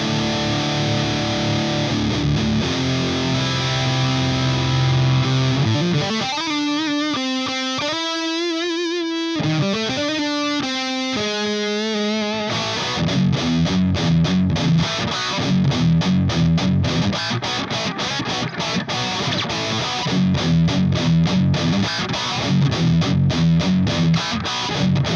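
Electric guitar played through an Orange Dark Terror tube amplifier head, heavily distorted, with chugging riffs and sustained chords, then a brief run of clean-sounding single notes and a return to thick, gritty palm-muted rhythm playing.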